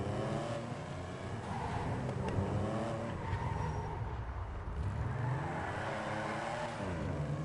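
A powerful car in the video game GTA V revs and accelerates, its engine note sweeping up and down with tire skids, heard fairly quietly and continuously.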